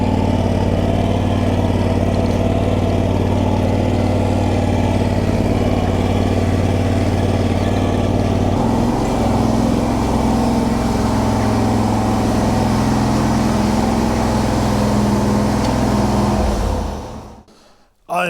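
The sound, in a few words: garden tractor with new engine running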